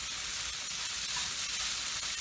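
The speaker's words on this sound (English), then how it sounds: "so I'm going to give this a stir" Food sizzles and fries steadily in a pan while it is stirred during omelet-kit prep, a close, continuous hiss with a soft rustle of stirring throughout and no talking.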